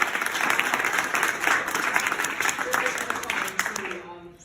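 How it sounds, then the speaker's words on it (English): Audience applause for a panel speaker, steady dense clapping from a crowd at a theology network gathering that fades out at the end. "How about a round of applause for the"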